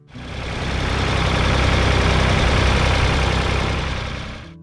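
A Ford 4000 Diesel tractor engine runs steadily, a loud, even diesel rumble that swells in and fades out over a few seconds, with no voices.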